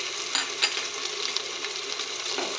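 Onions frying with ginger-garlic paste in a pan for homemade chicken pulao, a steady close hiss of sizzling oil with occasional soft stirring clicks, continuous and even, with no voices.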